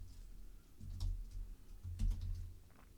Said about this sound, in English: I mostly just need to do some typing right now